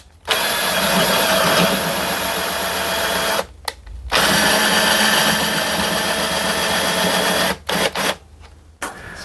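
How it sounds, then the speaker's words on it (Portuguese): Cordless screwdriver fitted with a socket turning a screw from underneath a router table lift, running as a loud steady whir in long bursts with short pauses between them. "Vou usar então aqui uma parafusadeira com soquete aqui pela parte de baixo da mesa."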